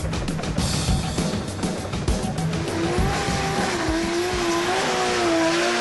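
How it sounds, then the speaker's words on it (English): Brand-new R32 drag racer at Champion Dragway, Meremere, during the 2001 New Zealand 4 and Rotary Nationals: a loud, continuous engine roar with rising tonal whine and tire squeal, close and steady throughout. "The most anticipated car on the day was this, the brand new R32 of Reece McGregor."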